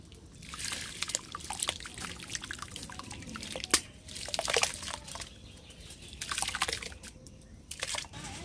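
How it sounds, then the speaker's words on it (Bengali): Broken rice pours into hot water in a wok, making soft trickling, dripping and light sloshing that comes and goes in faint, uneven bursts. "জল গরম হয়ে গেছে খুদগুলো দিয়ে দেবো জলের মধ্যে"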